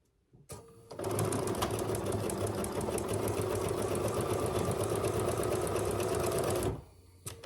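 A sewing machine stitches a simple tote bag, a close, loud continuous buzzing whir for about six seconds after a brief start, then stops.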